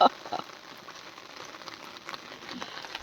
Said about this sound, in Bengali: বৃষ্টিটা বন্ধ হচ্ছে না